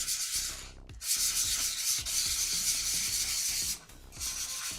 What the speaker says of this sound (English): I'm just gonna use some high grit sandpaper